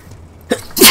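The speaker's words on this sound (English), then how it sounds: "I had to sneeze, sorry about that." A single loud, close sneeze from a man during a tactical shooter game session, with a short inhale before the sharp burst.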